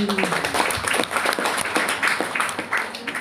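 An audience at a thanksgiving Mass for a nun's silver jubilee claps in a dense, steady round of applause, with a few voices mixed in.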